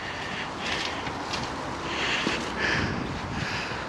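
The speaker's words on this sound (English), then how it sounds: "Winds getting a bit windy." Steady wind rushes past the microphone on a building site where block walls are being laid up to scaffold height, a continuous breathy roar that swells slightly in gusts, with no voices.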